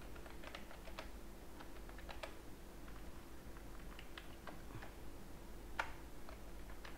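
Keys clatter on a computer keyboard as an email address is typed in, a quiet run of irregular light clicks with one sharper tap near the end over a faint steady hum.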